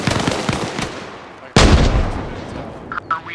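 Arma Reforger video game combat: a run of gunfire, then a sudden loud blast as a frag grenade goes off, followed by a rumbling decay and a few more shots, with a voice heard faintly.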